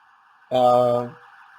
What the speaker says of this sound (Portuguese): Eu acho que vocês estão escutando a ambulância passando, né?